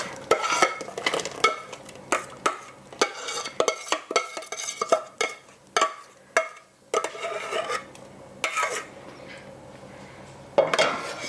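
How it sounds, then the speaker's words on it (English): Aronia berries and softened apples stirred in a pot, with a spoon scraping and knocking in a steady run of bursts, close and fairly loud, with no talking. "Mix it together and boil a tiny bit longer"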